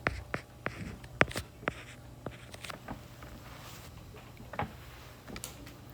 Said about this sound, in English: I'm just going to write that in the triangle